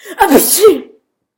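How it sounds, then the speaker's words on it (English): A single loud, close sneeze, with a short breathy intake leading into a sharp burst that quickly fades to silence. "and then he sneezes."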